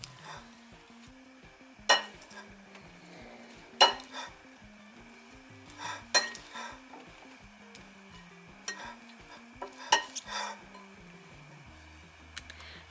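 Quinoa salad with parsley and green onion is tossed in a bowl, giving soft, regular scraping strokes punctuated by sharper clinks of a utensil against the bowl, close and moderately quiet, with no speech.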